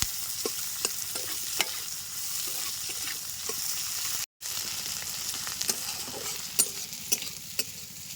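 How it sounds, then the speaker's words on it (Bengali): Onion and ginger fry in oil in a pan for a rural Bengali stalk-and-fish curry, giving a steady sizzle with repeated spatula stirring scrapes and a brief gap midway. "পেঁয়াজটা একটু আদা ভাজা করে নেব"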